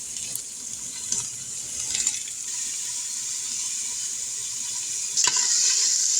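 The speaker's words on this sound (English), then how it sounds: "I'm going to keep frying this for another couple of minutes over medium heat." Meat browning in a pan over medium heat, a steady close sizzle with broad bright hiss throughout, a few faint stirring clinks, and a louder crackling surge near the end.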